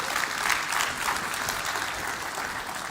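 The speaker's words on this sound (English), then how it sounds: "Round of applause for that team." An audience at the Safaricom Engineering Summit Decode 2.0 gives a team a round of applause, steady dense clapping that fills the whole stretch at a fairly even level.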